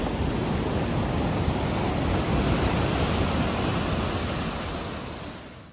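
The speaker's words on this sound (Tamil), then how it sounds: "ரொம்ப இழுக்குது. சரியான போர்ஸா தண்ணி விடுது." Water gushes forcefully at a bathing spot in Chittampatti near Madurai, a steady, loud, broadband roar that continues unbroken and fades slightly at the very end.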